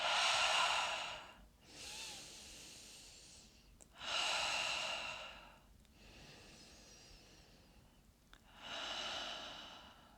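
Seated chair-yoga breathing, with long audible breaths in and out through the nose, about five slow airy swells of rising and falling breath, close and alone with no talking.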